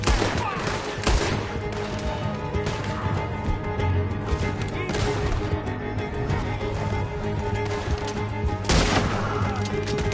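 Dense gunfire from a horseback shootout in the video game Red Dead Redemption, with loud shots cracking repeatedly over steady game music and hoofbeats, a few heavier blasts standing out.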